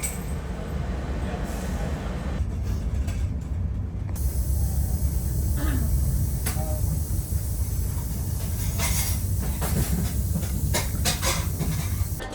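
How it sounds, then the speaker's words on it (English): A ScotRail train passes on a platform on the way to Doncaster, a steady loud rumble and hiss of rolling stock with brake and air noise, continuous through the stretch and close by. "Some random ScotRail train there."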